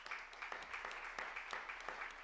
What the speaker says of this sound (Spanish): os pido un aplauso para ella